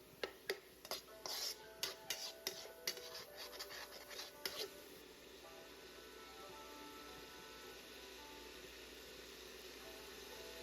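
Ground beef sautéing with ginger in a pan is heard as a quiet run of scraping, stirring clinks from a utensil against the pan, then a faint steady sizzle carries on alone.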